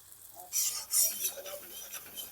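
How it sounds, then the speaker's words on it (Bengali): Masala for a rohu fish curry sautéing in a pan, with scraping spoon strokes and bright sizzling bursts, near and fairly soft, in two or three short stirring passes. "মশলাটা খুব ভালো করে কষা হয়ে গেছে"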